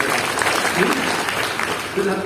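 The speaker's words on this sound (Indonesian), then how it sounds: "Yang percaya kasih tepuk tangan dulu yang paling meriah." A church congregation applauds loudly and steadily, a dense wash of clapping that fills the space, with voices mixed in underneath.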